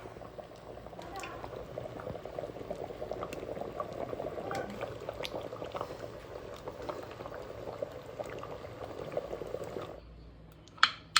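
Clam curry (Mangalore-style maruvai, clams in a spiced gravy) boiling steadily in a pot, a continuous dense bubbling that holds for about ten seconds before dropping off, with a couple of sharp knocks at the end.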